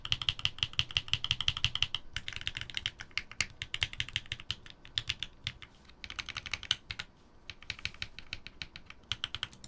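Steady rapid typing on a freshly built mechanical keyboard with keycaps fitted, dense clacky keystrokes close up, a brief pause near two seconds, no voices.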